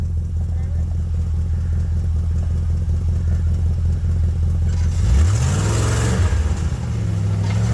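An off-road Jeep on a Black Hills trail rumbles steadily nearby, then its engine revs and roars louder as it drives past, with people talking over the noise.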